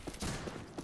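Gunfire in the Western multiplayer shooter Fistful of Frags, a few sharp shots spaced across a short moment amid busy game noise, moderately loud.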